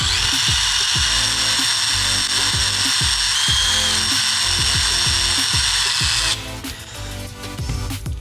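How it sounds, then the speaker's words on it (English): A countersinking tool runs by hand around a freshly drilled hole, deburring the edge in a steady series of repeated rasping strokes, close and fairly loud, with a high whine behind it that cuts off near the end. "then using a counter sinking tool, and go ahead and just carefully run it and deburr the hole I just drilled."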